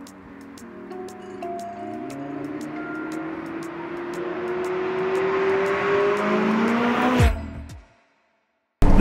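A McLaren 3.8-liter twin-turbo V8 revs up in one long rising pull lasting about seven seconds, loud and close, then cuts off abruptly into brief silence.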